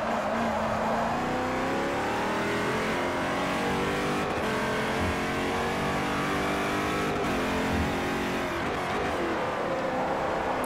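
An LMP2 race car in Forza Motorsport 4 holds a loud, sustained engine howl that shifts in pitch as the throttle rises and falls, with faint tire scrub in places and no talk.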